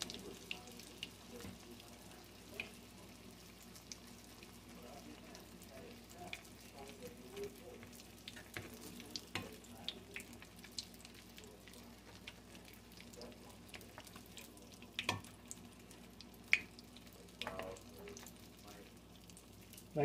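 Squirrel egg rolls in light wrappers fry in about an inch of oil, giving a quiet, steady low sizzle with scattered faint pops and small clinks throughout; no talk is heard.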